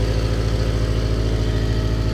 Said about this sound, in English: Got a definite exhaust leak.